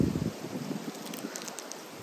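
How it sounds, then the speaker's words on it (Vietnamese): A quiet morning breeze stirs the trees outside a house, a soft, steady rustle of leaves with faint wind buffeting close to the microphone. "Buổi sáng ra yên tĩnh, nghe gió cây xào xạc ở đây."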